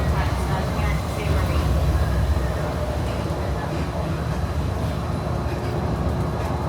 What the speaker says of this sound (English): Please remain seated until the monorail comes to a complete stop.